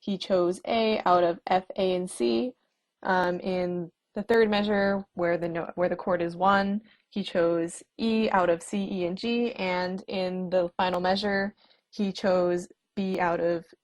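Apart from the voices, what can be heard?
No everyday noise stands out behind the speech.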